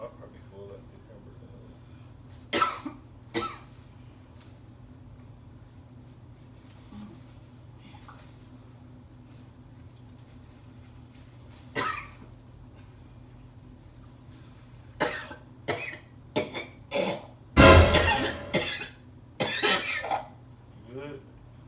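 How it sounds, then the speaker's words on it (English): A person coughing and clearing the throat in a quiet room, several short sharp bursts scattered through the stretch, with one loud harsh cough near the end. "I just coughed that."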